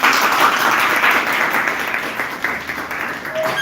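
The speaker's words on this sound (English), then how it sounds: "So big round of applause for both teams." An audience applauds both teams at a live debate event, a dense, loud burst of clapping that runs for a few seconds and tapers off slightly toward the end.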